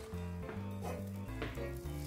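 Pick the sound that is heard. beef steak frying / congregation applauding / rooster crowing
beef steak frying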